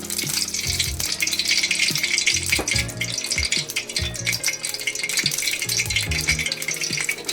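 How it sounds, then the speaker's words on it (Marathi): Oil crackles steadily on a hot tawa, ready for frying stuffed bangda mackerel in Malvani style, a constant bright hiss running under melodic background music with occasional clatter. "तवा तापून घेतला तर तेल टाकते"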